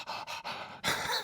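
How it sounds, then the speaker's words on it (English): Heavy, audible breaths come in four quick pants, the last one longer and louder, close to the microphone with no talking over them. "I'm breathing heavily"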